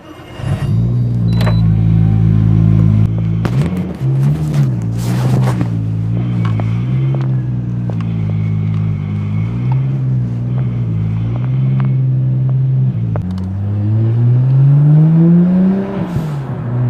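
Modified Nissan Skyline R34 GT-R engine holds a loud, smooth, steady idle close by, with small pitch wobbles as it is blipped, then rises in a swelling rev as the car pulls away.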